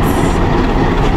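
A train rolls along in Jamaica, a loud close rumble of wheels on track with a brief high squeal at the start, heard alone.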